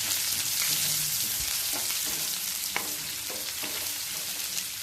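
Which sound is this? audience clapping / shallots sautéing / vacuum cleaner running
shallots sautéing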